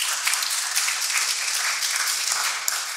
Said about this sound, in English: You clap for Jesus